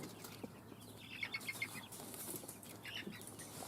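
A trapped black-and-white magpie flaps its wings in a few quick, faint bursts of fluttering, with short pauses between them in a quiet setting.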